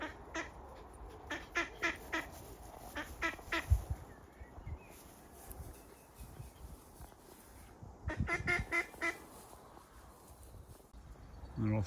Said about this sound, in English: A trio of ducks.